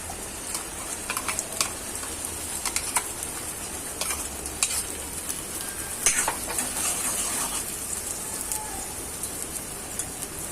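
Ground masala paste with curry leaves sautés in a pan for a dry prawn curry, crackling and sizzling loudly up close. Frequent scraping stirs and sputtering pops come through, and the crackle thickens after the midpoint.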